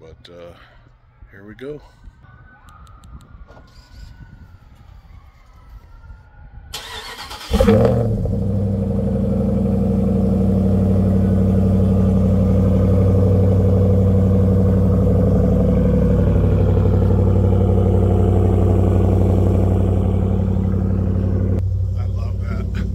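A pickup truck cold-starts outdoors in Albuquerque: a sharp crank catches into a loud, steady, rumbling idle that runs on. Faint street ambience and a brief voice come before the start.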